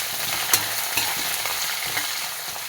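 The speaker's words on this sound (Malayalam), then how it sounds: "2 സവാള കട്ട് ചെയ്തിട്ട് കൊടുക്കാം." Sliced onions frying in ghee and oil with cinnamon, cloves, cardamom, star anise and a bay leaf, a steady close sizzle broken by a few sharp stirring clatters, no voices.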